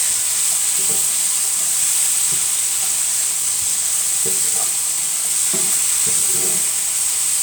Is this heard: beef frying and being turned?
yes